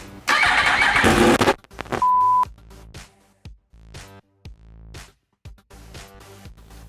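A 2015-or-later Yamaha YZF-R1 motorcycle engine with no exhaust can barks into a harsh, deafening roar for about a second, then drops away into scattered mechanical clatter.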